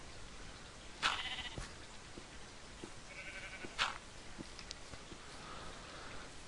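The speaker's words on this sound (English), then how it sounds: "if you run into stuff like this, like piles of sheep, it's always good to just hit them" Sheep in Minecraft bleating, two short distinct bleats a few seconds apart, fairly faint over a soft steady background hiss.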